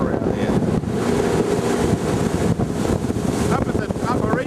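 A small motorboat runs up Second Creek in gusty wind at high tide, engine drone and hull wash blending with steady wind buffeting on the microphone, loud and continuous throughout.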